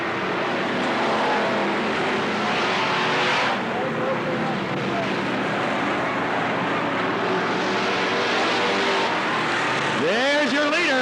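Race cars roaring around Cottage Grove Speedway at a 1991 race, a loud, unbroken wash of engine noise with passing cars swelling near the end, and an announcer's voice under the din.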